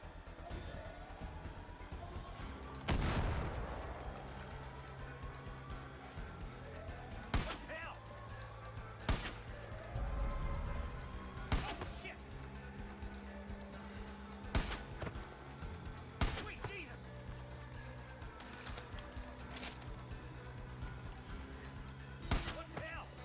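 Sniper rifle shots in Far Cry 5, a series of loud sharp cracks spaced a few seconds apart over constant game ambience and speech, with echoing tails after several shots.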